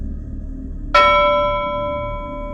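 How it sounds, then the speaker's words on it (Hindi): A single bell strikes once far off in a jungle and rings out with a long, slowly fading tone over a low background hum. "कहीं दूर जंगल में एक घंटी बज रही थी।"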